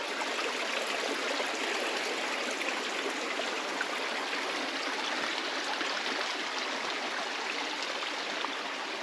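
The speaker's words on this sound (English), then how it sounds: "This water just comes right out of the rocks." Spring water pours straight out of rock at Brewery Spring near Panamint City, a steady, full, close rush of flowing water that holds without pause and is heard on its own.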